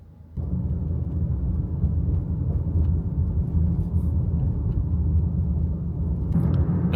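A car drives along a road in Maggie Valley, North Carolina, after a hurricane, heard from inside the vehicle. A steady, loud low rumble of road and engine noise continues throughout, with no talk.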